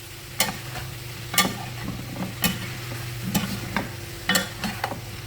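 Cooked vegetables being stirred in a hot pan, a spatula scraping and tapping about once a second over a steady low sizzle, close by with no voices.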